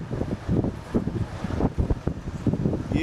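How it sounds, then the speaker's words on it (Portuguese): A strong gust of wind sweeps across Aparecida beach in Santos, SP, on a sunny day. It comes as a loud, continuous buffeting roar with rumbling surges across the whole stretch, and no one speaks. "uma rajada de vento muito forte mesmo"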